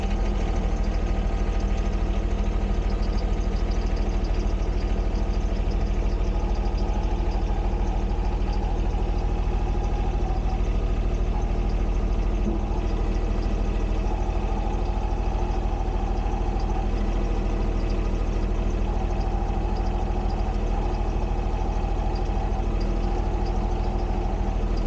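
A John Deere 595 engine runs steadily with the snowblower PTO engaged, a loud continuous low-pitched rumble and hum that holds without change throughout, with no voices over it.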